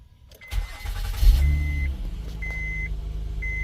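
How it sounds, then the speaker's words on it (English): A dash cam in a Honda gives a series of evenly spaced high beeps just after the car's engine cranks and settles into a steady idle. "That other beeping noise is my dash cam, so pardon that."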